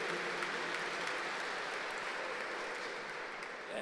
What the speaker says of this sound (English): Round of applause for Pearl.